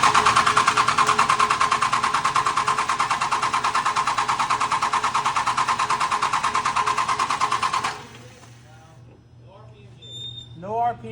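A flatbed truck engine cranking over, with a loud, rapid, rhythmic starter whir running steadily for about eight seconds before cutting off. Voices follow in the quieter tail.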